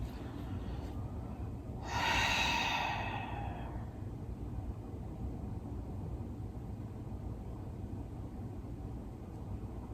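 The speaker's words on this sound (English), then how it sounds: "And then breathe." One deep, slow breath during a meditative yin yoga session, a single close, airy exhale lasting about a second over a steady quiet background.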